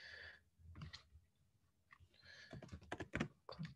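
Quiet, scattered key clicks from a computer keyboard as a password is typed, coming in short irregular bursts with brief pauses, close and faint.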